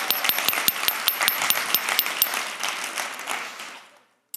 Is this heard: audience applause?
yes